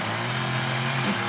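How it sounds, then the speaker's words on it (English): A lawn mower runs steadily while mowing a lawn, a constant engine drone heard alone without speech. "mowing the lawn"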